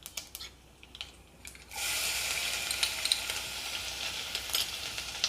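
Garlic and cumin hitting hot oil, with a few light clicks before a sudden, steady bright sizzle that carries on, close and loud, with occasional crackling pops.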